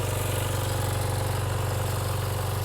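A 2006 Kawasaki Ninja 250 engine idling steadily with a fast even pulsing putter and a possible exhaust leak, close and constant with no talk.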